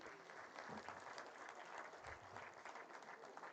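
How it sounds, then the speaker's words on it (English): Steady applause from a conference audience at an inaugural session on green hydrogen, a continuous wash of many hands clapping, fairly distant and even throughout. "Kindly keep the applause going."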